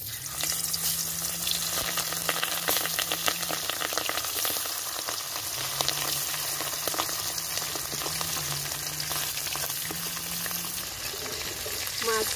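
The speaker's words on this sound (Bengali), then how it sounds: "মাছগুলো আমি এখন ভেজে নেব।" Small hilsa fish, rubbed with salt and turmeric, frying in hot mustard oil in a kadai, giving a steady, close crackling sizzle with a low hum running beneath it and no voices.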